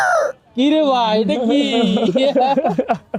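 A man imitates a rooster's crow with a long, rising-and-falling vocal call after a brief opening word. Near and loud, with a short burst of talk or laughter at the end.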